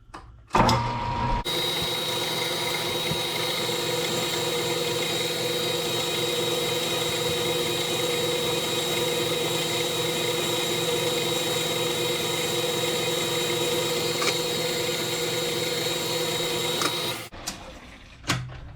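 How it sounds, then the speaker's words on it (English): A lathe takes a light finishing spring pass on a fabricated starter/generator pulley for a 1976 Harley-Davidson golf cart; the machine starts up, whirs steadily for about fifteen seconds, then winds down. "I'm thinking we'll do another spring pass and"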